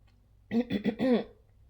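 Three or four quick throat-clearing coughs in close succession, close and fairly loud, over a quiet room with no other sound.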